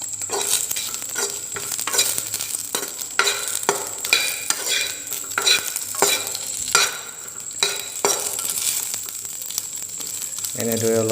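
Smoked pork with chili and garlic stir-fried in a hot, dry wok without oil, giving a steady sizzle broken by repeated scraping stirs of a utensil against the metal, close and fairly loud throughout.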